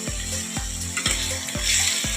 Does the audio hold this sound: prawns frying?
yes